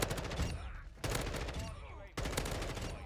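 Bursts of M4 assault rifle fire in Modern Warfare 2, three sustained volleys of rapid shots separated by brief gaps, loud and close.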